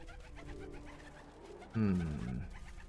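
Pigeon cooing in the medieval life-sim game Medieval Dynasty, a single soft throaty coo rising briefly out of quiet ambient game sound near the end.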